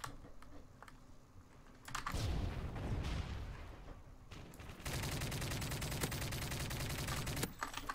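Rapid automatic gunfire from Modern Warfare 3 crackles in dense bursts, loud and close, mixed with mechanical keyboard and controller clicking and brief broadband blasts.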